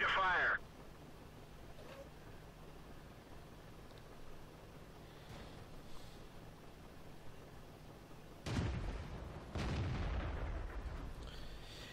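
A tank's main gun firing in World of Tanks, with two heavy booming shots landing near the end after a stretch of low engine rumble, loud and close.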